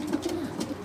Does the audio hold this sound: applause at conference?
no